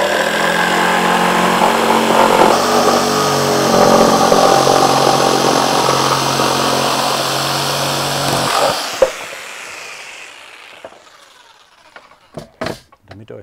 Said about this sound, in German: Im Endeffekt müssen wir jetzt also nur das Brett in Teile schneiden.